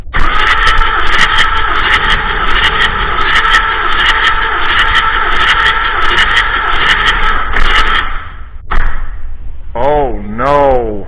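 Powerstroke diesel engine cranking on its starter, a steady dense mechanical churn with sharp ticking transients that runs loud for about eight seconds, then cuts out before a voice speaks briefly over it.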